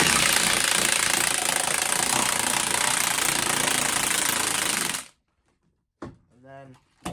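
An impact wrench with a 22mm socket hammers loose the strut nut on a 1.8T VW Corrado in one loud, continuous rattling burst of about five seconds that cuts off abruptly, followed by a short voice.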